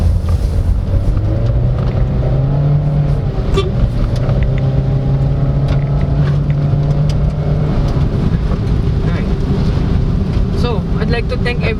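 A 2024 Honda Brio RS CVT hatchback accelerating in sport mode, its engine drone rising in pitch with a steady loud hum and wind noise throughout.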